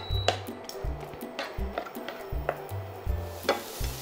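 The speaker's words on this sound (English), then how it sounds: "We'll just saute the ginger, garlic, and onions until the onions become lightly soft and tender and just lightly brown." Ginger, garlic and onions sauté in a pan, a soft steady sizzle punctuated by repeated scraping and stirring strokes of a utensil against the metal, close and clear with no talking.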